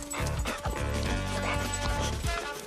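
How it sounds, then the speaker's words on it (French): A dog barks repeatedly in quick, loud, close yips and woofs during a French comedy film scene, mixed with some whimpering and background commotion. "Si, ils ont un chien."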